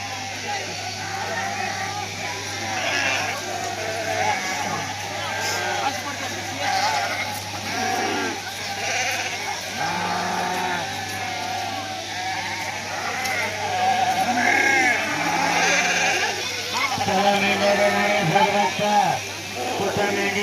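Several sheep bleat on and off during wool shearing at a sheep-shearing festival, against a busy background with people talking throughout.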